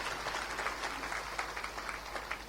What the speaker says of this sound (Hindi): भारत जीता है, इसलिए ताली बजा के स्वागत कर लो